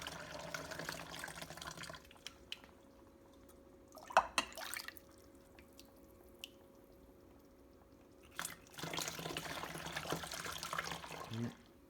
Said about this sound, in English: I do have a separate funnel that I'm just going to pour the water into